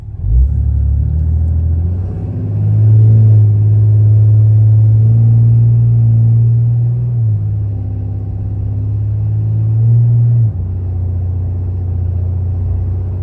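A 4th-gen 6.7 L Cummins diesel pickup accelerates at about three-quarter throttle, a loud, steady low engine drone that swells and holds for several seconds before easing back to a lower rumble, with no talking.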